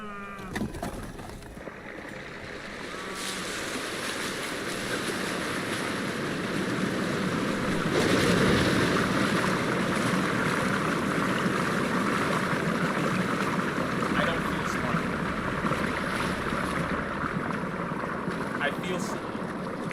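In the Ride to Hell video game, a boat churns through ocean waves with a steady, broad wash of water and engine noise that swells midway and holds for the full stretch, while a player talks over it.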